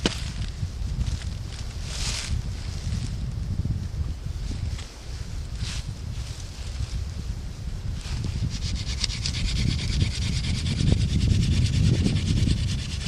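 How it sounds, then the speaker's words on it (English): Wooden fire-making hand drill spun under downward pressure from a condom thumb loop, a continuous dry rubbing and grinding friction sound with no talk. "I'm pulling down on the condom, which is applying downward pressure on this hand drill system."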